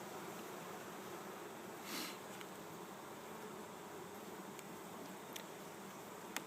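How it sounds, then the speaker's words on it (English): Honeybees at a well-populated hive in October, a soft continuous buzz filling the air with a few louder passes of individual bees near the microphone. "You got a good population of bees. They're still working here."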